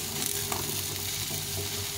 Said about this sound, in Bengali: সজনাগুলো একটু ভেজে নেব